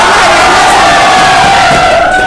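A large crowd of students cheers and shouts together at a coaching class in Mukherjee Nagar, a loud, dense, continuous roar of many voices with no let-up.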